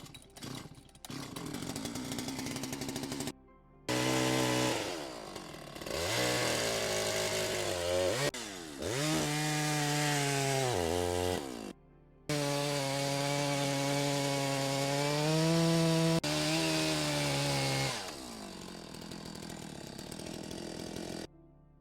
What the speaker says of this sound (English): I had the chainsaw running to line it up.